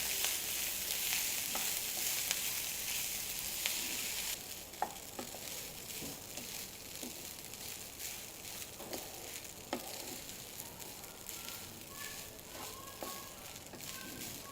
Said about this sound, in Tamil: ரைஸ் எடுத்து அதில் போட்டு ஸ்லோ ஃபயரில் வச்சுட்டு லாஸ்ட்டில் ஃபினிஷில் உப்பு லைட்டாக தேவையான அளவுக்கு உப்பு போட்டு கிண்டணும்